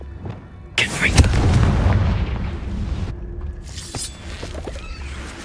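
The Confringo spell bursts in the Hogwarts Legacy video game with a sudden loud explosive boom and a rumbling tail, followed by lighter crackles and a voice speaking.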